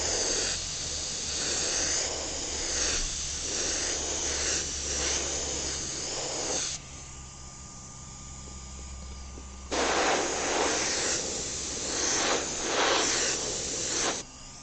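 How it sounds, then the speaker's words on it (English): Airbrush spraying baby blue paint onto Air Force 1 sneakers, close steady hissing bursts that pause briefly and resume, a low hum underneath and no talk. "So when I spray, I like to go in one direction,"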